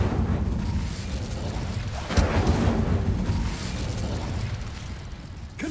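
An Incendio fire spell in the game Hogwarts Legacy unleashes a steady rushing roar of flame with a sharp burst partway through, loud and continuous with rumbling low end throughout.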